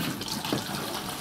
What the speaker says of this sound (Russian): Просто вода наливается.